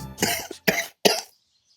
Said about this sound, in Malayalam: കണ്ട ചുമക്കുന്ന കണ്ട?